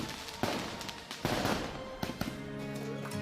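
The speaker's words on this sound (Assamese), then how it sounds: "চৌদিশে ফটকা আতচবাজি ফুটাই আনন্দ প্ৰদৰ্শন কৰে" Sharp bangs and crackling bursts of firecrackers and fireworks at a celebration go off in quick, irregular succession, some close and loud, with a busy, echoing outdoor background.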